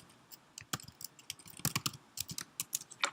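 A command being typed on a computer keyboard: a quick, uneven run of close, crisp key clicks that speeds up toward the end, alone in a quiet room.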